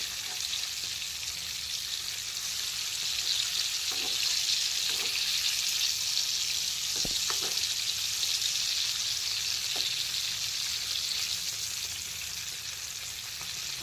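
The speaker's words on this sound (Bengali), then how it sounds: "এখন উল্টো দিকটা একবার ভেজে নিই।" KFC-style chicken drumsticks frying on their second side over low-to-medium heat, giving a continuous dense hiss of hot oil with a few soft knocks and pops scattered through, steady and close with no talk.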